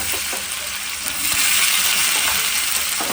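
Cumin, cashews, green chili, ginger and curry leaves fry in a pan of hot oil, giving a steady close crackling sizzle that swells slightly midway and carries on without a break, with no talking over it.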